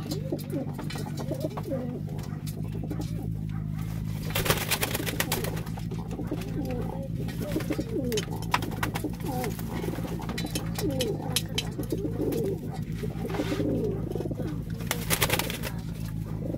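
Soft pigeon cooing repeats over a steady low background hum, with faint rustling and brief noisy bursts around it.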